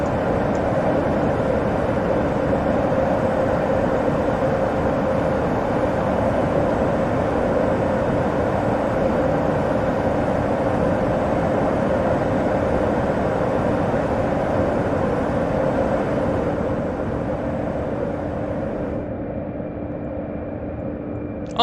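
Steady, loud jet engine drone of an Embraer E175 airliner in a flight simulator game, a continuous broadband roar with a faint tonal hum that holds for about twenty seconds before thinning slightly at the end; no talking.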